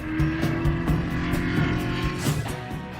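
A Ferrari Modena converted into a barchetta racer pulls away, its engine revving in short rhythmic pulses with gear changes, fairly faint and somewhat distant.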